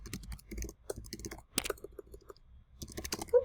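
Keys on a computer keyboard tapped in short, irregular bursts of close clicking, with brief pauses between runs.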